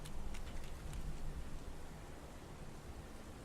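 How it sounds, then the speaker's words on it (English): Steady rain falls in the PS4 video game Heavy Rain, a faint, even hiss of downpour that continues unbroken throughout with no voices over it. "Little rain never hurt nobody."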